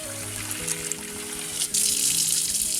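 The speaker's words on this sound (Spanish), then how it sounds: "Lavamos muy bien la quinoa para retirar la saponia" Quinoa is rinsed under a running kitchen tap, with a steady rush and splash of water that grows louder and brighter partway through while a faint tonal hum sits underneath.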